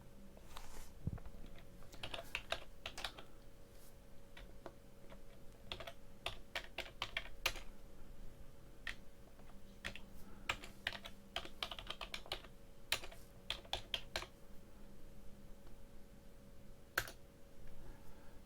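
Keystrokes on a computer keyboard while entering text in SketchUp: quiet, close clicking in irregular bursts with short pauses between, over a faint steady background hum.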